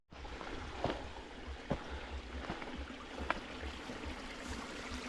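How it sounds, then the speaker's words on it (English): A small runoff stream trickles near a walking path in a field on a Dartmoor hill near South Zeal, a soft continuous wash of water with a few louder splashes and a light low rumble, no voices. "I can hear water running."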